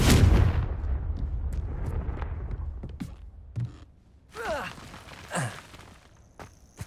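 A Confringo blasting spell from the Hogwarts Legacy game goes off with a loud, booming burst that decays into rumbling debris, followed by several sharper cracks and whooshing magical effects, with a voice calling out briefly.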